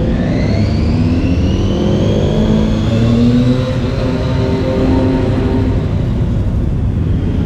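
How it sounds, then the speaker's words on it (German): Race cars heading out onto the Oschersleben circuit for a warm-up stint, a loud, sustained engine drone with rising and falling whine as the cars accelerate past nearby. "Die ersten fahren raus, sind hier bei Hafenegger im ersten Stint, ist ein Warm-Up-Stint"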